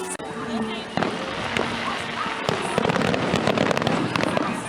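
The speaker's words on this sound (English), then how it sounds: "The fireworks!" Fireworks at Disney World crackle and pop in rapid, scattered bursts, with voices of a crowd mixed in throughout.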